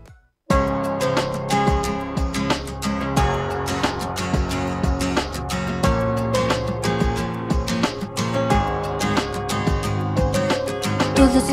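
Pop single plays after a brief silent start, a full band with steady percussive beats, bass and sustained melodic tones running loud and continuous throughout.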